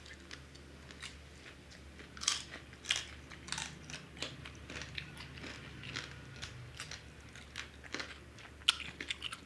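Crisp, crunchy bites into spicy boneless lechon belly, with repeated close chewing and sharp crackling crunches spread unevenly through a quiet room, with no talking.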